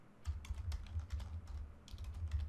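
Steady typing on a computer keyboard, a rapid run of close, crisp key clicks with a brief pause midway, heard alone without speech.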